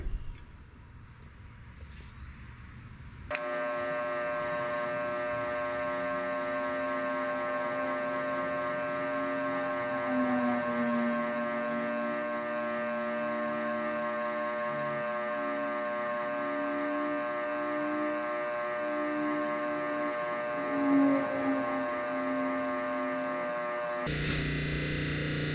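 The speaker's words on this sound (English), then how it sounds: "Some of these parts I can clean on the wire wheel." A bench-mounted wire wheel spins steadily while small parts from a Wheel Horse 704 tractor are cleaned against it, a continuous loud whirring grind with shifting pitch, ending abruptly as the motor stops.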